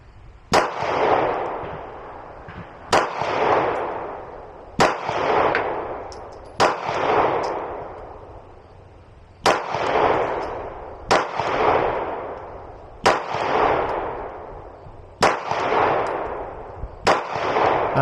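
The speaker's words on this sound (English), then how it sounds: "So right here, that's with the safety on, and flip the safety off. Ooh, I pulled that one really bad." Pistol shots fired at an outdoor range, eight loud single cracks spaced a couple of seconds apart, each with a reverberating tail that fades before the next.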